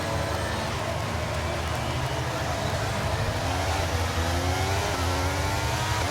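A racing video game car's engine revs steadily at the race start, holding a loud, constant drone with the sound of other cars mixed in, while a voice talks over it.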